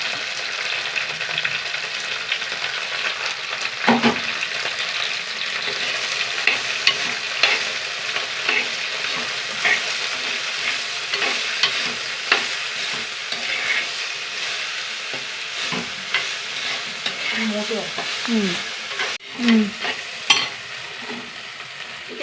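Large sliced onion sautéing in a hot pan, a steady loud sizzle running throughout with occasional scraping stirs and spatula knocks, no voices.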